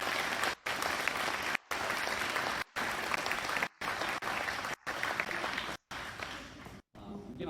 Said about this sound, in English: one more round of applause for these wonderful